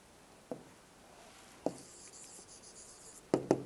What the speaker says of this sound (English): Let us write the answer statement.